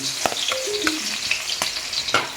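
Garlic sizzles in a hot pan while being prepared for spaghetti, a loud, close, continuous crackling fry broken by sharp clinks of a utensil stirring.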